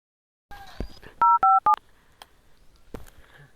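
Telephone keypad dialing tones beep in a quick series of three short, loud tones, with faint rustling and handling noises before and after.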